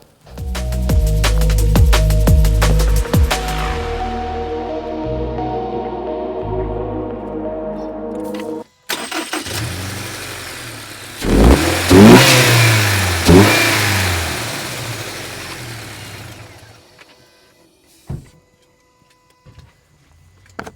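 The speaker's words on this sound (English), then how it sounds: "I'll start it up real quick and maybe you guys can hear it." A new Subaru Impreza RS engine starts, rumbles and revs repeatedly, loud and close, rising and falling through several throttle blips before dropping to idle and fading out.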